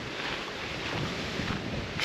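Steady broadband wind rush buffeting the microphone on a cold hike, continuous and fairly loud throughout, with a gust swelling at the very end.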